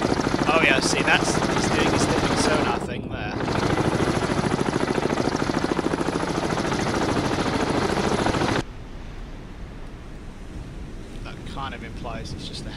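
Loud helicopter rotor chop in the submarine video game Cold Waters, a dense pulsing roar with wind noise that drops abruptly to a quieter rumble partway through, with a voice talking over it.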